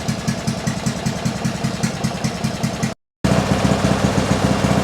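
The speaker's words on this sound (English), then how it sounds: "I want to warm up the engine really nice and hot, so the oil gets as thin as possible" Trackless train engine idling while warming up, a steady close throbbing pulse with even rhythm, briefly cut by a short gap of silence.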